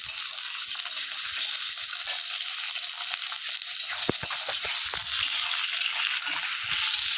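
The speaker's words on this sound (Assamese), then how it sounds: "অকণমান ফ্ৰাই কৰি ল'ম পিঁয়াজখিনি" Onions and potatoes fry in oil in a pan, giving a constant bright hiss with light crackling and a few soft stirring knocks near the end, no talking.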